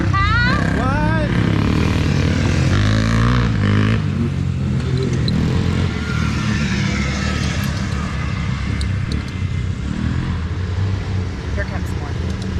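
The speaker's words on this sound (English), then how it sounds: "Vicious gang of four-wheelers. And dirt bikes." Four-wheelers and dirt bikes ride at an off-road park, their engines droning and revving loudly and continuously nearby, with a person talking over the noise at the start.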